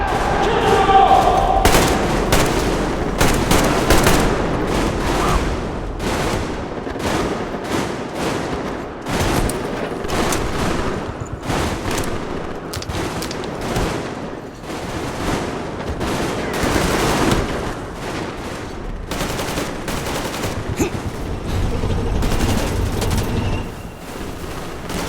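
Sustained gunfire in the video game Metro Exodus, rapid overlapping shots and bursts that continue almost without pause, loud and close, with shouted voices mixed in.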